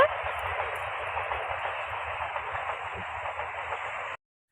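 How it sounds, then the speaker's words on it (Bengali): A passing train in open fields gives a steady broad rushing hiss and low rumble that holds evenly, then cuts off abruptly near the end. "ওই যে ট্রেন চলে গেল"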